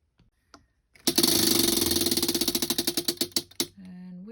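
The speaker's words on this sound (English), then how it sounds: "So, it's time to spin the wheel." A prize wheel spins with a rapid clatter of pointer ticks that start fast and dense, then slow and space out into separate clicks before stopping, loud and close.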